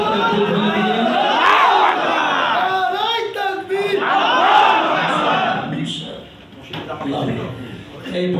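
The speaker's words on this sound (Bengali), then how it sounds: "হাত তুলে তাকবীর বলে দিন।" A crowd at a Jamaat-e-Islami discussion gathering shouts the takbir together, loud massed voices rising in repeated waves close by, then thinning toward the end.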